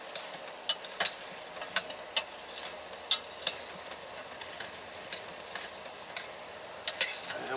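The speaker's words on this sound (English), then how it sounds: "We're going to stir this up. So we got onions and carrots in here." Onions and carrots sweat with bacon in a pot, with a soft sizzle underneath as a spoon stirs and scrapes in a series of sharp clicks through a cramped van kitchen.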